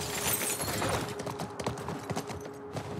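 A horse galloping in The Last of Us Part 1, rapid rhythmic hoofbeats drumming at a moderate distance over a steady background layer.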